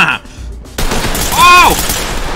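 Gunfire rattles in Ready or Not, loud rapid shots and bursts over game noise, with a whistling tone rising and falling in the middle.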